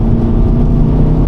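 A VW Golf diesel pulling hard from low speed through its rev range, a steady loud engine drone with a low rumbling note and no voices over it.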